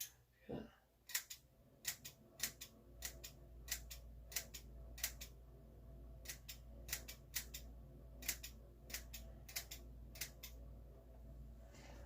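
Scissors snipping hair bangs close up, with a series of crisp, sharp cuts at a steady, uneven rhythm over a low hum.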